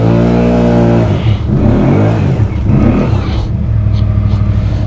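A 2020 Can-Am Outlander 650 XMR ATV in a swamp, its engine revving hard with loud, steady harmonic drone that surges and dips as the throttle changes, close and continuous.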